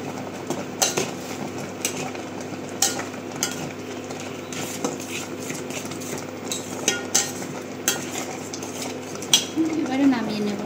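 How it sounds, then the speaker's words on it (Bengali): A spoon stirs payesh, a rice pudding, in a pot as cashews and raisins are added, making irregular soft clinks and scrapes against the metal over a steady low hum. "এবার আমি এর মধ্যে একটু কাজু কিশমিশ ছড়িয়ে দেব"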